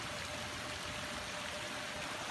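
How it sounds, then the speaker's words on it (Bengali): Heavy rain pours during a downpour in Dinajpur, Bangladesh, a steady dense hiss of falling water, fairly even and continuous with no voices. "বৃষ্টি হচ্ছে, এই হওয়াটাই স্বাভাবিক"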